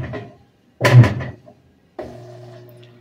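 The agitator of a Magic Queen Evoluzione 9 SX washing machine turns one way and then the other, making close, loud swishing churns of water and mechanical whirring separated by a short pause.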